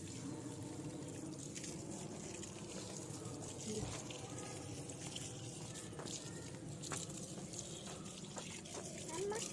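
Water pours steadily during an at-home bath, a continuous close splashing and trickling wash that runs the whole time with faint voices in the background.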